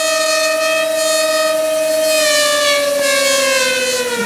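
Small toy motors whirring at increased power, a steady loud whine with rising and falling pitch lines that shift gradually as the speed changes, continuous with no talk.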